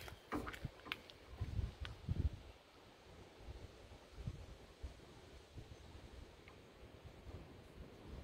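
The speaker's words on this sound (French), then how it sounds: "il y a tellement de vent" Strong gusts of outdoor wind buffet the microphone, loud rumbling bursts in the first couple of seconds, then a lighter, steady windy roar for the rest.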